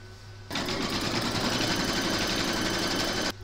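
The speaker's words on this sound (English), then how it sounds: "load the ear file into your machine and then you're going to stitch round number one" An embroidery machine stitches a placement outline, a fast, steady mechanical chatter that starts abruptly, runs for about three seconds, then stops, with no talk over it.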